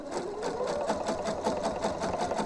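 A sewing machine stitching around the edge of a blouse with a facing, running continuously with a rapid, even mechanical whir and rhythmic needle pulses, close and fairly loud.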